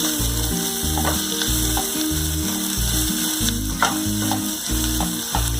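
Onion and tomato sauté in a pan for paleo sambar rice, a steady close sizzle running under a rhythmic, repeating low mechanical whir, with no speech.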